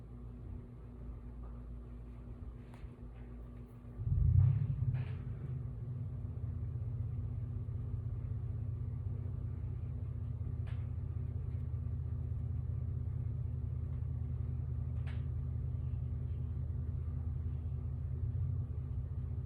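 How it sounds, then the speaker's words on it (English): Neighbours' trucks start up outside with a sudden engine surge, then settle into a steady, low, droning idle that runs on and on, muffled and somewhat distant. "We have some neighbors with some trucks, so they're quite loud."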